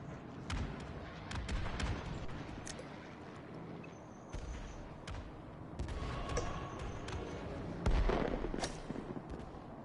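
Cartoonish explosions from the video game Golf With Your Friends, several booming bursts and thuds scattered irregularly over a busy game soundscape, fairly loud with sharp cracks between them.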